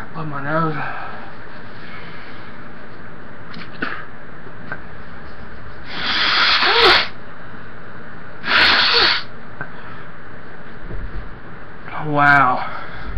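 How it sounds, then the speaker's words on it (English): Someone blows their nose in two short, forceful bursts a few seconds apart, close to the microphone, between bouts of speech and sniffing after eating a very hot pepper. "Blow my nose."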